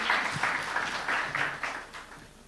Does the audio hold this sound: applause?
yes